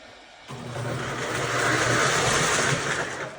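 A Dr. Yellow model train running on a small home layout: a close rolling rumble of wheels on track starts abruptly after a half-second lull, swells steadily and eases off slightly at the end.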